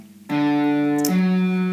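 A distorted electric guitar plays legato, a hammered-on note ringing out loud and sustained, then shifting to a second pitch as another note is hammered on partway through.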